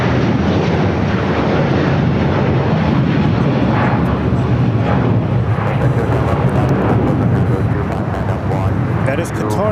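A Qatar Airways Airbus A350-1000 jet, seven years old, at LAX gives a loud, steady engine roar that fills the whole stretch, with people talking over it.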